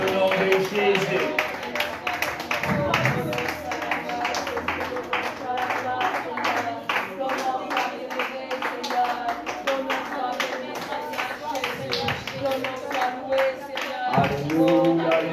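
Church congregation clapping in steady rhythm to acclaim the name of Jesus, dense and continuous hand claps close by, with voices speaking and calling out over them.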